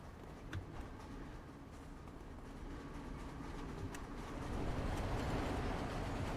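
Train-station ambience in a video game, with a continuous low rumble of a train and rail cars that swells slightly louder toward the end, scattered clicks and faint distant chirps over it.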